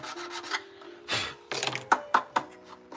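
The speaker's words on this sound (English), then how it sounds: "That's a better file. Just to sand those little pegs down with." A file rasps back and forth over small pegs on a scale model, a few short scraping strokes up close, followed by light taps and clicks of handling.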